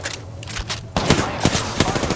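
Bursts of gunfire striking the player in a video game, loud rapid cracks in quick clusters, close and harsh, with a busy mix of game noise underneath.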